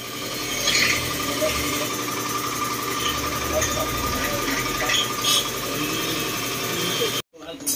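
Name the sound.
air blower used while cleaning Yamaha XMAX 300 CVT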